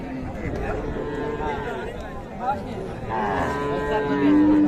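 Sahiwal cattle, including a young bull calf, lowing at a crowded cattle market in Raniganj, Dinajpur; drawn-out moos rise near and loud over a busy murmur of people talking.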